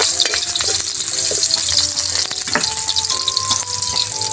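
Onions and ginger sauté in a pan of hot oil with a loud, continuous sizzle and frying crackle, close and steady throughout, with occasional light stirring noises.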